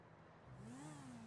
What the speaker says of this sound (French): Ah, t'entends? Ouais, c'est une moto.